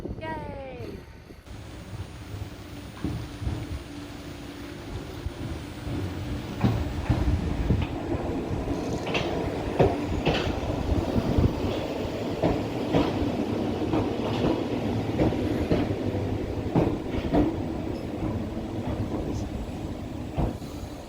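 A passenger train on an Isle of Wight line, once double track and running beside a main road toward Sandown, rumbles steadily from inside the carriage with rhythmic clickety-clack of wheels over rail joints and some wind noise.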